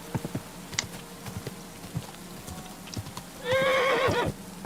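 A horse in the video game Kingdom Come Deliverance 2 lets out a clear, close whinny near the end, after a run of hollow clip-clopping hoof steps.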